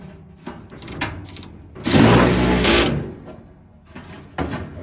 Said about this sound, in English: Just 2 screws that I'm putting back in here